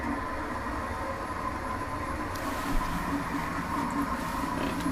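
Kone traction elevator traveling between floors in a residential building at Taivaanpankontie 16C, Puijonlaakso, Kuopio, a steady close rumble and whir throughout with a slight bump partway through.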